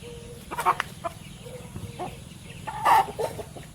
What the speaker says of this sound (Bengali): এরকম বিভিন্ন রকমের মুরগি আছে এখানে